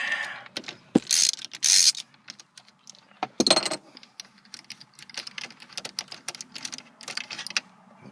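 Ratchet turning a 10mm socket to remove screws on a 2002 Ford Escape, bursts of rapid ratcheting clicks mixed with clunks and metallic knocks, close and uneven, no speech.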